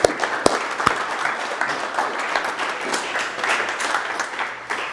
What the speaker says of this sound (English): we'll give him a round of applause in spirit